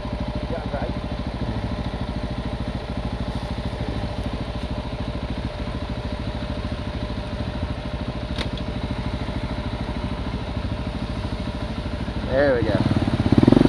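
RF 250 dirt bike engine running after plowing through a deep mud section, a constant mid-distance drone that swells louder near the end.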